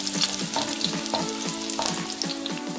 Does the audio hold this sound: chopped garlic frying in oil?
yes